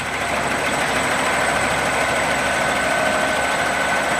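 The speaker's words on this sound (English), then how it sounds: "Big ISX Cummins up front." International Paystar 5900 heavy-haul truck from 2006 with an ISX Cummins engine, idling in a steady, close, low rumble that holds evenly throughout with no talk.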